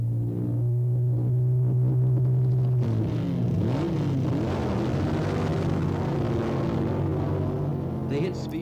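Loud drag-racing motorcycle engines drone steadily, then rev with rising and falling pitch as the bikes race, close and powerful.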